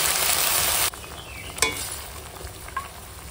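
Prawns and bottle gourd leaves stirred into mustard-poppy paste in a hot pan, loud sizzling hiss at first that cuts away to softer scraping and a couple of spoon clicks.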